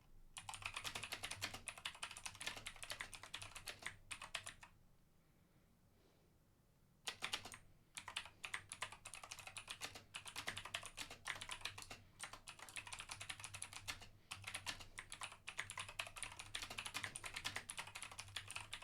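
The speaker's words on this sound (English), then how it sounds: "You're hearing all of the typing today." Rapid, steady typing on a computer keyboard carries on close by for most of the stretch, with one brief pause partway through and a low hum running underneath.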